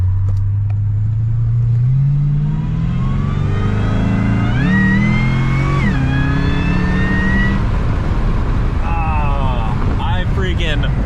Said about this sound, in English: I freaking love superchargers. They just sound so good.